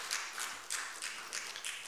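A Sunday service congregation in a church gives a brief, faint round of hand claps, a thin scatter of soft claps in quick succession with no voices over them.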